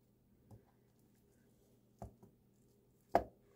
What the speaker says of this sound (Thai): Make a small thin slice